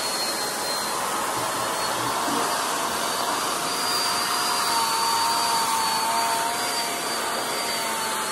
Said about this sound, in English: Regular hand blow dryer all the way on high.